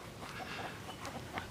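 Chickens in a yard cluck and squawk in agitated bursts as a person follows them, over a noisy outdoor background, fairly close.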